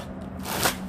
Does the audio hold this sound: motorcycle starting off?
no